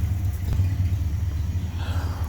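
Mopar 318 V8 fitted with a new BBD carburetor rumbles low and loud as the car tries to spin its wheels, a steady heavy drone with a slight rise toward the end.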